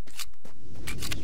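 A weapon being reloaded in the video game STALKER: Shadow of Chernobyl: a few quick, close metallic clicks and clacks in rapid succession, with a short pause between them.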